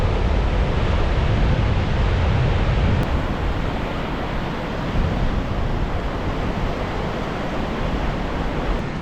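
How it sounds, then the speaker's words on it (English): Strong storm wind outdoors in Scotland, a loud continuous roaring rush buffeting the microphone, with surf-like surges and no talk. "I'm getting blown away by the wind"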